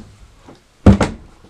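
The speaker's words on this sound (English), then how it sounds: "Let me close this door one second." A room door is pushed shut, giving two quick close thuds in succession, loud against an otherwise quiet indoor background.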